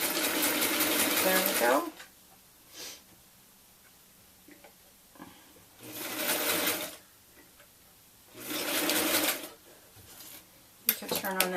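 A sewing machine runs a zigzag stitch in three loud whirring bursts of about two seconds each, with quiet gaps, small clicks and a brief spoken remark between them.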